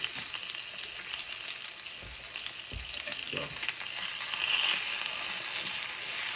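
A salmon fillet pan-searing sizzles steadily in a hot pan, a dense bright hiss with a few soft pops and taps, close and continuous, no talking.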